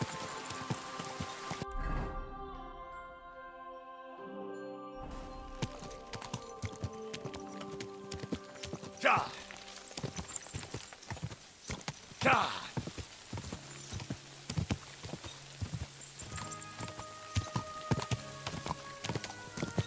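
A horse in a medieval Bohemia-set video game clip-clops steadily through rain, hooves beating in an even rhythm over a soft patter of raindrops, with a short musical passage near the start.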